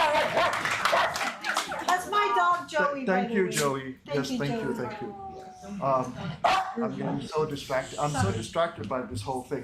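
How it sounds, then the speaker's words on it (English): A dog barks and yips several times in short bursts, mixed in and overlapping with someone talking nearby, at moderate loudness. "That's my dog"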